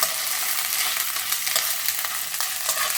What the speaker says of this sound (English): I'm gonna put all my vegetables in. I'm gonna turn the heat down a bit. So my vegetables are in.